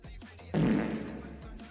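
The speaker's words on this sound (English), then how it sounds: "Thank you for the fart bubbles." A comedic fart sound effect fires from a stream channel-point redeem during a live game-development broadcast, a short, loud, wet burst that trails off over about a second.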